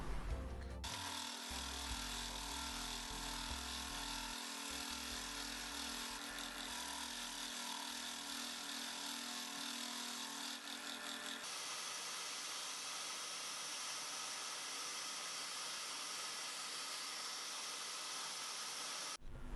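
A power sander grinds continuously on a resin and Australian burl wood pendant, a dense hissing whir that holds steady for about twenty seconds, with a change in tone partway through as the pressure shifts; no talking.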